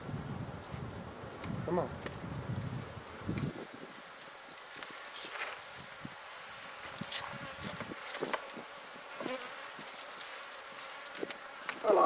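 Honeybees buzz around an opened topbar hive during an early spring inspection, a steady faint swarm drone with brief louder passes near the keeper, broken by occasional rustling and handling noises and short spoken remarks.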